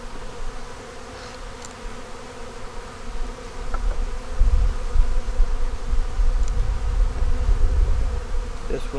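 Honey bees buzzing around an open hive with brood, larvae, honey and the queen, a dense steady drone close by that swells louder midway and stays thick to the end.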